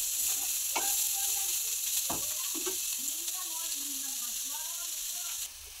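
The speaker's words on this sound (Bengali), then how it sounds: "এবার ভালো করে ভেজে একেবারে নামিয়ে নেবো। ভালো করে এখন ভাজা।" Bitter gourd and potato frying with turmeric in a wok, giving a steady hiss with occasional stirring scrapes. A voice talks softly underneath.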